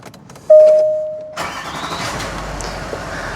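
A Range Rover L405 with a ZF8HP transmission fires up after service: a short starter tone, then the engine catches and settles into a steady idle nearby.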